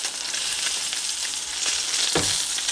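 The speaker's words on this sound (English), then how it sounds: "this does take a few minutes to get that nice hard sear" Salmon searing in hot oil in a pan, a steady, loud, close sizzle that holds throughout with a brief soft knock near the end and no talking.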